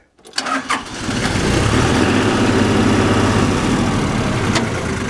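A Kubota tractor engine cranks with a few sputters, catches, and settles into a loud, steady idle close by, with no voices over it.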